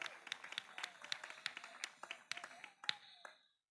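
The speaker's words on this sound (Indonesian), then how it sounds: "Tepuk tangan dulu untuk Pringsewu." Scattered hand claps from a small group at a Wayang puppet performance event, a few sharp slaps standing out, tapering off and stopping near the end.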